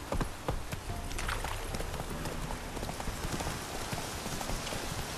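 A horse's hooves clip-clop steadily across the ground in The Witcher 3: Wild Hunt, with a dense run of quick hoofbeats mixed with a constant rain-like hiss and no talking.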